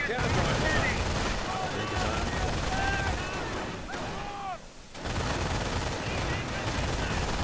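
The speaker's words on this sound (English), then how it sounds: "MG42 suppressing two charging rifle squads." MG42 machine gun in a Company of Heroes style strategy game firing on charging rifle squads, with rapid bursts and ricochet whines over battle noise as a commentator talks.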